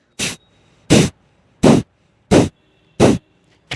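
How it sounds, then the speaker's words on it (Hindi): Five sharp, forceful kapalbhati yoga breath exhales blast close into a microphone at a steady rhythm, each a short burst of rushing air, with a faint sixth at the end. "माइक को अपने पास लेके जाऊंगा तो अब आवाज देखिए कैसी आती है कपालभाति की,"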